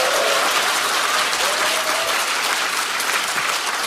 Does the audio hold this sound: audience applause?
yes